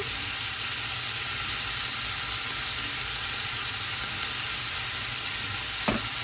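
Ground meat browning in a pan with Creole seasoning, a loud, steady close sizzle throughout with one brief scrape near the end.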